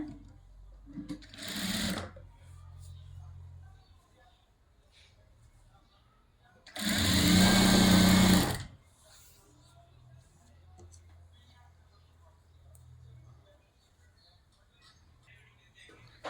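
A sewing machine stitches a katori blouse in two bursts: a short whirring run, then a louder, longer steady rattle of the needle. Quiet talk comes in the gaps.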